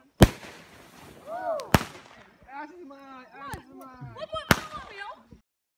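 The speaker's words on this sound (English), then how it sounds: "I'm with a lot of people right now watching fireworks" Fireworks burst outdoors at a Fourth of July celebration: three sharp, loud booms spaced a second or more apart, with a crowd talking and exclaiming between and over the blasts.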